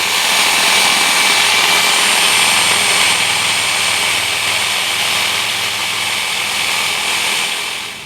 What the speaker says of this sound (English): I'm just going to use a reciprocating saw to cut a sector out of it